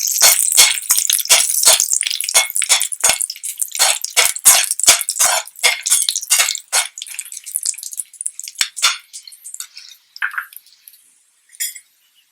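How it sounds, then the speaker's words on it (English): Halved red chilies go into a hot stir-fry pan, a quick run of sharp, close clicks and patters that thins into scattered taps and ends with a few light rattles. "Once this is done, we'll add some chilies. The red chilies which are cut into halves."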